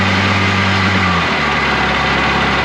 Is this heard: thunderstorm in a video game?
no